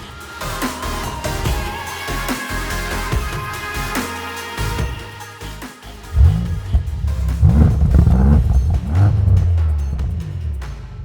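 A BMW M5 CS, 635 horsepower, gives a deep, bassy engine and exhaust roar that swells and revs in bursts. It stays loud and close throughout, growing heavier in the second half.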